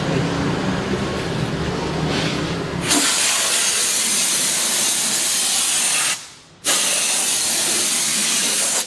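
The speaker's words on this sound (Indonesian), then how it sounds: "Ayo Mas, terus semprotnya." A loud, continuous hiss of a high-pressure washer spraying a car at a car wash, shifting in tone as the nozzle moves, cutting out briefly before resuming just as strong.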